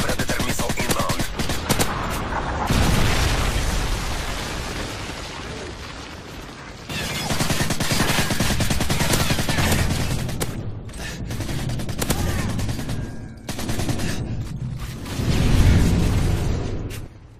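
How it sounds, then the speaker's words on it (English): A Predator missile strike amid gunfire in a video game: loud, dense bursts of automatic fire and booming explosions in long volleys, with brief lulls and a heavy blast near the end. "Friendly Predator missile inbound."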